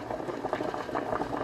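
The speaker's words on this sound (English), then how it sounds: "So now our potatoes are boiling." Potatoes boil in salted water in a pot. The bubbling is a steady, soft, close simmer with irregular small pops and no talk.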